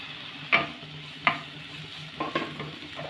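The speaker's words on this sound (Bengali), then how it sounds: "করলাটাকে কয়েক সেকেন্ডের মতো পেঁয়াজ রসুনের সাথে ভালো করে নেড়ে নেব।" Grated bitter gourd is stir-fried with onion and garlic over medium heat under a quiet sizzle, broken by four sharp spatula scrapes and clacks against the pan.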